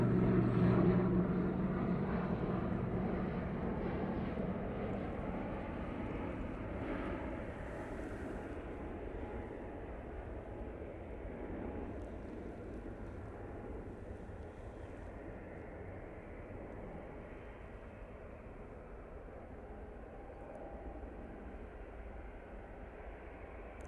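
An ATR 72 turboprop in ex-Avianca livery touches down, its propeller and engine noise loudest at first and then easing into a long, steady fading rumble with no talking.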